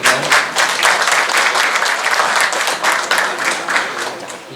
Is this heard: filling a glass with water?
no